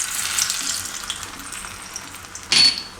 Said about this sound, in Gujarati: આમાં આપણે લસણ નાખી દઈશું